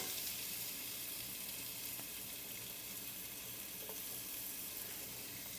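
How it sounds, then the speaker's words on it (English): Butter and oil sizzle steadily in a pot as garlic goes in, a continuous hissing crackle with faint stirring underneath and no voices. "I can hear that my butter and oil are starting to sizzle, so I'm going to add this garlic in"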